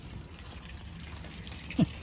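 Water gushes steadily from a hot-water outlet onto the ground at an RV campground, a continuous mid-level rushing flow with one brief louder splash near the end.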